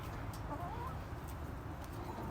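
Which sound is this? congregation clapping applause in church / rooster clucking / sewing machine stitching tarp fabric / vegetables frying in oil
rooster clucking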